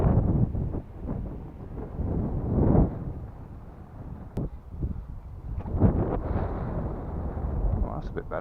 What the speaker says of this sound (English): Wind's a bit gusty, coming and going.